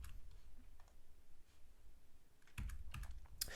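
A computer keyboard's tab key is pressed with a few quiet clicks and taps, the sharpest strokes landing near the end against a faint room background.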